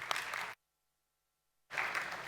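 Audience at a corporate AI conference claps in two short bursts of dense applause, separated by a moment of silence, close and fairly loud.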